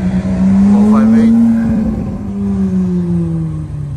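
A Ferrari 458 supercar sweeps past at a Goodwood supercar gathering, its engine note rising and falling loudly as it goes by, with people talking over it.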